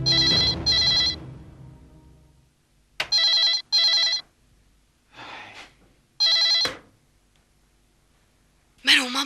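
Old-style telephone bell rings in repeated bursts during a tense crime drama scene, loud and close, with short pauses between rings, breaths and movement in the gaps.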